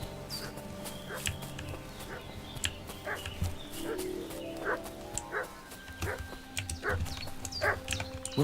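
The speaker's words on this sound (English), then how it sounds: "What's that dog making such a fuss about?" A dog barks repeatedly in the village ambience of the medieval game Kingdom Come: Deliverance II, with yips and whimpers among other farm sounds and some talk.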